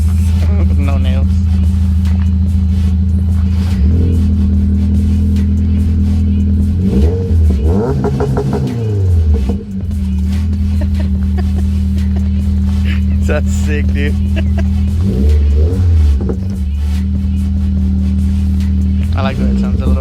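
A 2021 Subaru Impreza engine idles with a steady throaty rumble, then revs up and back down twice in quick sweeps with a slight rattle and pop on the drop, while people talk close by.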